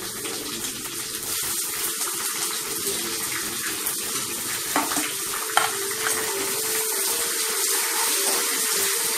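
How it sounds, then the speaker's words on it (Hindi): Chopped onions frying in hot oil in a pan for an Indian bhindi (okra) fry give a steady, dense sizzle that holds evenly throughout with no voices. "प्याज को हमने इतना अच्छे से भूनना है जब तक इनका गोल्डन कलर नहीं हो जाए"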